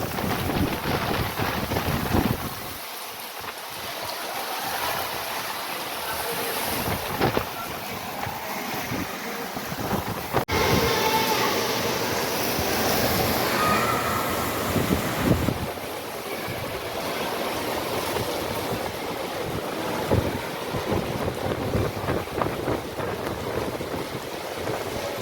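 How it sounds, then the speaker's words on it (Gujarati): Strong storm wind roars and buffets the microphone continuously during a motorbike ride, a loud rushing noise with gusts rising and falling throughout. "પવન ને વાવાઝોડું ચાલુ થઈ ગયું."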